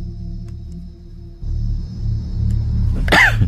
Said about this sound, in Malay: Maaf, nak terbatuk, tahan-tahan, terbatuk juga.